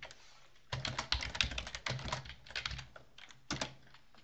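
Code being typed on a computer keyboard at a desk, with bursts of quick, close key clicks separated by short pauses.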